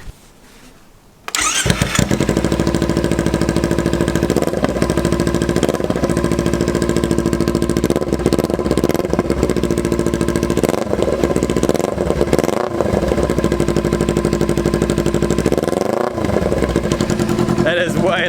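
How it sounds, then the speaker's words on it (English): A 2014 Kawasaki Ninja 300 with an MGP exhaust and no muffler starts after a moment of quiet, then idles loud and close with several light throttle blips, a voice shouting over it. "I can't help but turn it on and see what it sounds like with no muffler at all"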